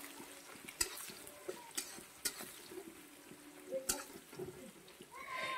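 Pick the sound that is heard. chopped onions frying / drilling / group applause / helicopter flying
chopped onions frying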